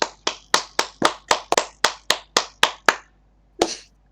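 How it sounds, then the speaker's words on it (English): Sharp, single hand claps ring out in a steady rhythm, about a dozen in a row, then a pause and one final clap. "Round of applause for our winner."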